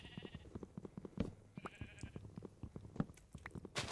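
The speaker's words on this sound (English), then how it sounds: "There's lots of sheep making noise and they're annoying me." Minecraft sheep give several short bleats amid soft footsteps and clicking game sounds, faint and intermittent in the background.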